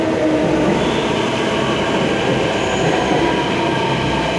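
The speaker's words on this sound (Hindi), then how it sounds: "सो फाइनली देखिए मेट्रो आ गई।" A metro train in New Delhi rumbling loudly nearby as it arrives, with a steady roar of wheels on rails and a faint high squeal.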